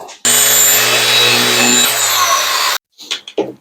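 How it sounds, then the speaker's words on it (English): A loud power sander runs steadily on a wooden cutting board for a couple of seconds with a constant high whine, then cuts off, followed by a few brief rubbing scrapes. "All right, back to sanding."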